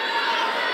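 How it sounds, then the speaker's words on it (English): A Georgia home crowd at a women's basketball game against Auburn gives a warm round of applause as reserves return to the court, a dense, steady wash of clapping over the whole short stretch. "The reserves who came into the game for Georgia got a nice round of applause from this Georgia crowd."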